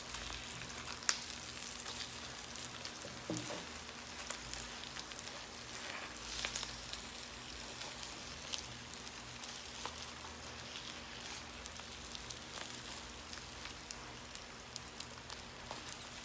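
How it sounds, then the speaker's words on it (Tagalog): Eggs frying in a pan for breakfast make a faint, steady crackling sizzle with a few soft scrapes, quiet and even throughout, with no voices. "paluto na ang itlog"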